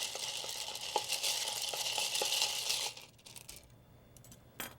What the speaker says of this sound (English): Then we're going to stir 12 times